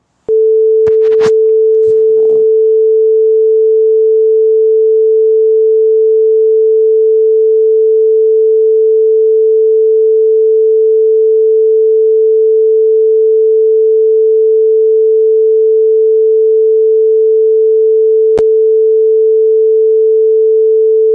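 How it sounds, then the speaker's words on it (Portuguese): A single pure, steady high-pitched tone rings unbroken from a loudspeaker in a physics class, loud and constant, with a few brief clicks at the start. "com o aumento da frequência em relação ao anterior, estamos produzindo um som agudo agora"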